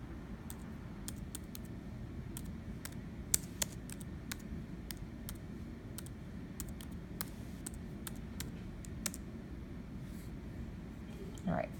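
Typing on a computer keyboard gives faint, scattered key clicks at an uneven pace over a low background hum, with no one speaking.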